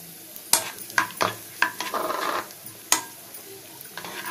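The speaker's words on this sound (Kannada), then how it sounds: "ತುಪ್ಪ ಕರಗಿದೆ, ಗೋಡಂಬಿ ಹಾಕೋತಾ ಇದ್ದೀನಿ. ಸ್ವಲ್ಪ ಸ್ವಲ್ಪ ಗೋಲ್ಡನ್ ಬ್ರೌನ್ ಬರಬೇಕು." Cashews and raisins frying in melted ghee in a small pan, a soft sizzle broken by sharp spoon scrapes and clinks while stirring, close up, no voices.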